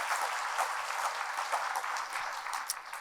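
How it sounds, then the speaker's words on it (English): Conference audience clapping for a mayor during opening remarks, a sustained fairly soft wash of applause with scattered distinct claps, heard from a distance in a large room. "So let's have another round of applause for Mayor Mike Morris."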